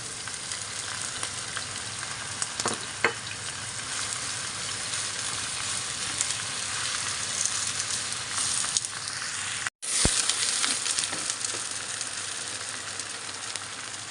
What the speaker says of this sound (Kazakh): Картошканы қуырып жатыр.